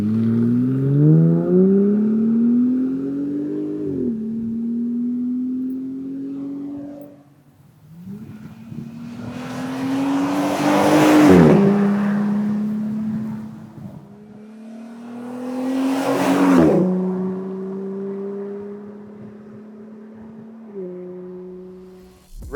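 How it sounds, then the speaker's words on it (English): A Jeep Gladiator with a Magnaflow exhaust drives on the street, its engine rising in repeated revving pulls through the gears with short dips between shifts, loud and close throughout. "It's a loud exhaust, but it's not overly loud, and it's really good tones."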